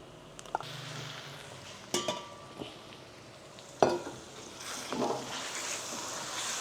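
Onion and sliced chicken breast sautéing in a pan for lomi: a soft, low sizzle with a few sharp utensil clinks and scrapes against the pan.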